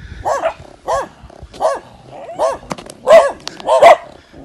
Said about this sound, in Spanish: Miren los perros. Te dan la bienvenida.